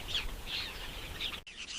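Yellow-billed oxpeckers screech repeatedly while diving at a retreating snake, harsh calls coming in bursts about every half second, fairly close and moderately loud, with no talk.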